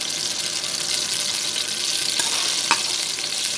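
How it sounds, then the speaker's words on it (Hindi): Garlic ginger paste fries in about two and a half spoons of hot oil for an okra dish, giving a continuous close, bright sizzle with a faint crackle partway through. "इसमें मैं लहसुन अदरक का पेस्ट शामिल करूँगी"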